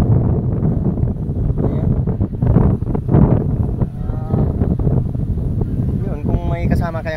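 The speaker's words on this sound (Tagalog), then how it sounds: "Kailangan talagang lakas ang hangin dito." Strong wind buffets the microphone by a lake at Pansol, Los Baños, Laguna, a steady broadband roar running the whole time beneath continuous close talking.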